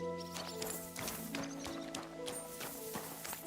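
A horse in a medieval video game clops its hooves in quick irregular steps with a whinny, close and moderately loud over a steady musical drone.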